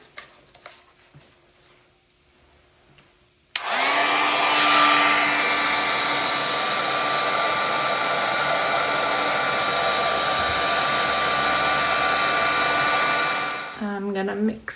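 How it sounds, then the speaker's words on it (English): A heat gun switches on abruptly and blows a loud, steady roar for about ten seconds over layers of resin in a geode slice, then cuts off. "I'm going to apply the heat gun to merge these 2 together."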